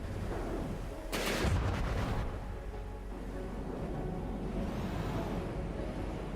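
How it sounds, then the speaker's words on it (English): Missiles launching in the From the Depths naval combat game, a loud whooshing burst over a constant rumbling engine and battle drone, with no talking. "Missiles popping in here."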